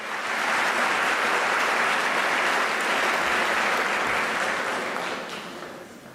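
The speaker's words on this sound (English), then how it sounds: "You should be clapping hands" A graduation ceremony audience claps hands in a dense, steady wash of applause that holds for several seconds before tapering off toward the end, with no voices over it.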